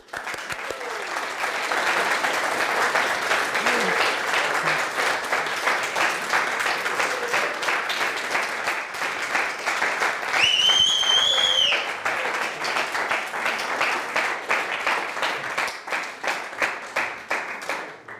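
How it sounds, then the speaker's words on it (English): Audience at a Huntington's disease research talk breaks into sustained applause, dense clapping swelling quickly and holding steady for several seconds before tapering into scattered claps, with a brief voice cutting in midway. "give me a round of applause"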